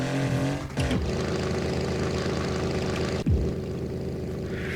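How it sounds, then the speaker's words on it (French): A Mercedes E63S engine in the Assetto Corsa racing game roars under hard acceleration, revving high and dropping sharply twice as it shifts gears, a loud, continuous near drone with no talking. "J'ai pris une petite E63S. Vous pouvez entendre que la sonorité est assez différente."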